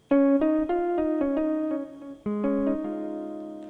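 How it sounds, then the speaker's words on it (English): Plucked jazz guitar voice on a digital keyboard plays a short melodic phrase, each note sharply attacked and ringing briefly, clear and close with no voices. "So jazz guitar sounds like this."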